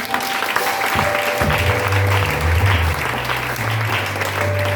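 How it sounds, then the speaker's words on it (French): A church congregation applauding in praise of God, loud sustained clapping that fills the room, with a held musical tone underneath and no talking. "Est-ce qu'on peut acclamer le Seigneur?"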